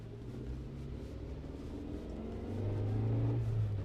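Suzuki Jimny engine running in four-wheel drive high on ice, a steady low rumble that swells louder toward the end as it pulls.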